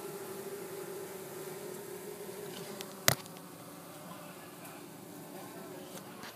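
Honey bees buzz steadily throughout during a hive removal from a wall, a dense swarm hum with a single sharp knock near the middle.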